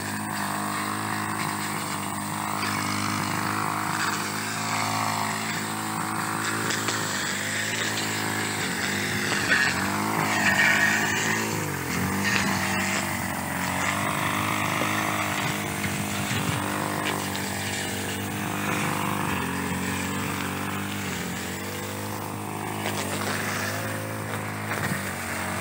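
An engine-driven mower drones steadily and loudly while cutting a farm field in the Philippines, a continuous near motor hum with small shifts in pitch and no voices.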